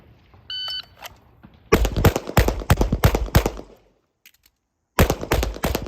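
Rapid strings of close, loud handgun shots during a Vice Prez shooting drill, opened by a brief timer beep, broken by a short pause with faint clicks of a reload, then a further burst of fire.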